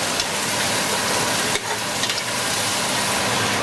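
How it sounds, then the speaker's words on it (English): Baby asparagus and shrimp stir-fry in a hot pan with a loud, constant sizzle and occasional stirring scrapes, and no voices. "And you want to stir fry them for about 4 minutes."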